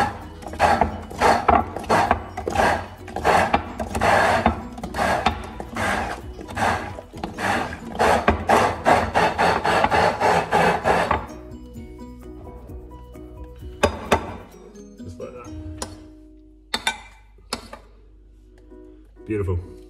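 An old Stick Whiz hand chopper pounds food in a kitchen with a rapid run of sharp, evenly spaced thumps, followed by quieter scattered clicks and clinks.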